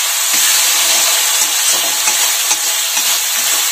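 Kashmiri chili powder spice paste sizzles and fries steadily in hot oil, a continuous bright hiss with occasional stirring scrapes, close and loud with no voices.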